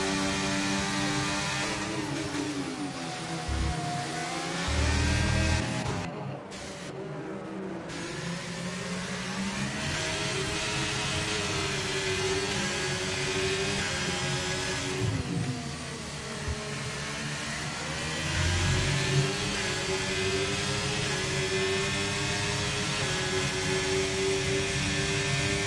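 A race car engine in a sim racing game on the Singapore circuit drones loudly and continuously, its pitch sweeping up and down with each rev and gear change.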